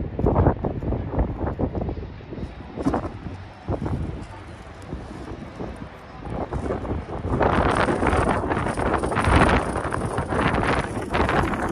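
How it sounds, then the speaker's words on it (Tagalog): Strong wind roars and gusts against the microphone near Blackpool Tower, swelling louder in the second half, with faint voices mixed in at times. "Lakas ng hangin."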